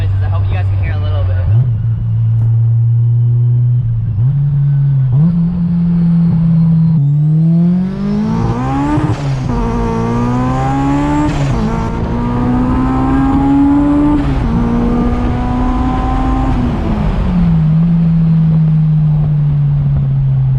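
A turbocharged Honda S2000 driven with the top down, its engine and exhaust loud and close, revving up through the gears in repeated rising pulls with whooshes between shifts, then settling to a steady drone.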